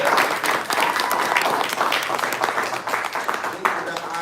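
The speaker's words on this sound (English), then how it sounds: "Come on now, clap that up." An audience at a Melanin Monday gathering claps on request, producing dense, continuous applause at a steady level for about four seconds, with voices mixed in underneath.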